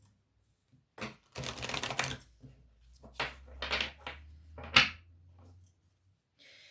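Oracle cards are shuffled and drawn by hand in a few short papery bursts, soft and near, with quiet handling and a faint low hum in between and nobody speaking.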